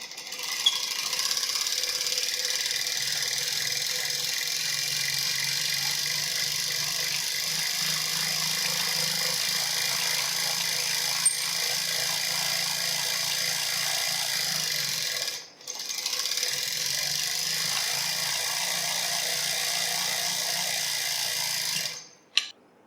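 Hand-turned wheel of a classroom generator that lights a bulb, giving a steady low mechanical whir that runs continuously, stops briefly partway through, then resumes before ending with a small knock.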